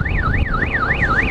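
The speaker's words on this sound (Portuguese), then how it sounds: "Olha aí a buzina da polícia, ó." A loud electronic police siren wails in a rapid rising-and-falling sweep, repeating steadily throughout, close by over engine rumble, on a dirt road.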